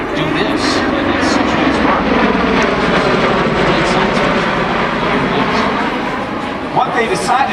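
A US Marine Corps MV-22 Osprey tiltrotor's jet engines and rotors roar loudly and steadily throughout, a dense continuous wash of engine and rotor noise with faint voices talking underneath.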